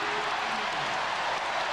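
A basketball arena crowd at a Bulls versus Sonics game cheers and applauds in a steady, loud roar that fills the whole moment with a broad wash of noise.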